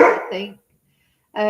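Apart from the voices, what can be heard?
dog barking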